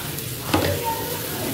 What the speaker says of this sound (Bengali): এবার একটু এটা ভেজে নেব।